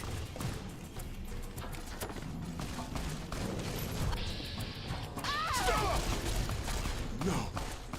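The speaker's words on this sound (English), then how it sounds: "Who are they shooting?" Gunfire in Fallout: New Vegas, Honest Hearts DLC, crackles through a dense, noisy game battle, with bursts of shots mixed into clatter and effects that swell louder in the second half.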